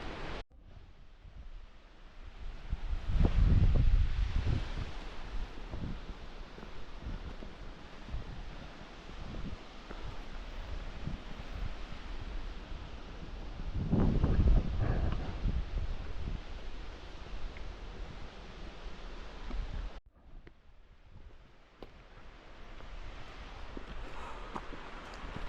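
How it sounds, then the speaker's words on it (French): Steady broadband rush of a mountain waterfall heard from a hiking trail in the Pyrenees near Mont Valier, continuous and moderately loud with gusty swells and wind buffeting the microphone. "Derrière, encore cette cascade. Très stylée."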